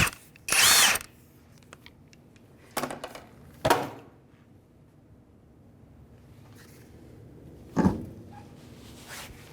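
Bursts of an impact power tool spin off the lug nuts of a 2005 Honda Element wheel with a 19mm socket: four separate loud whirring bursts, close up, with quiet gaps between them.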